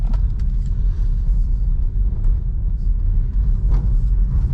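Tesla Model 3 electric sedan accelerating hard, a steady heavy low road rumble and tyre roar from inside the cabin with no engine note, continuous throughout.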